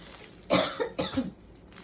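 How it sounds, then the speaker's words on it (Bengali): Two quick, harsh coughs from a nearby person, close together and loud against a quiet room. "এত কাশি হচ্ছে আর বলো না"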